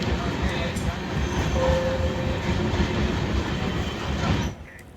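A train passes along a railway in India, a steady loud rumble of wheels and carriages with faint clickety-clack, ending in a sudden drop as it fades out.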